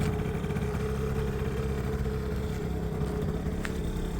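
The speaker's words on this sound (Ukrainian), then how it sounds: "Мотор тут працює ідеально" A Yamaha Jog SA16 scooter engine idles steadily up close, a constant even hum with no change in pace.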